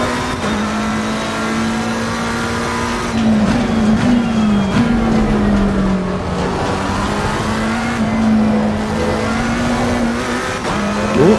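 McLaren race car in the Assetto Corsa Competizione racing game at Silverstone, its engine droning loud and steady at high revs with pitch dipping and climbing through gear changes, plus faint tire noise.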